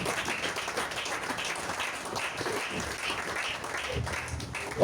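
A church congregation claps and applauds together, a dense, sustained patter of many hands at steady loudness with some voices mixed in.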